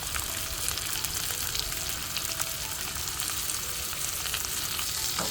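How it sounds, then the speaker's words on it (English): Ginger and garlic fry in a pan for a pale stew, a steady close sizzle with soft stirring scrapes running continuously with no talk. "Toss everything will get fried fine because we don't want it to be browned."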